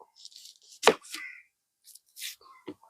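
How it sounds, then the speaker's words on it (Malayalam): Onions being chopped small with a knife for an old-style roadside-stall tapioca and egg dish, heard as a few scattered cutting strokes with one sharp loud chop near the middle and brief rustles between. "സവാള നമുക്ക് ചെറുതായിട്ട് നമ്മൾ ചെറിയ രീതിയിലൊന്ന് അരിഞ്ഞെടുത്താൽ മതി"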